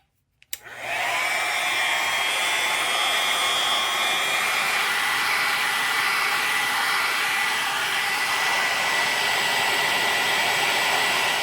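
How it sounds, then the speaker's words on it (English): A handheld blow dryer roars loudly and steadily for over ten seconds after switching on, blowing air over freshly cleaned pumpkin seeds in a colander, with no talking. "this is an ideal opportunity to use the blow dryer"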